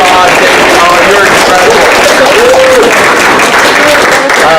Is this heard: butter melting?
no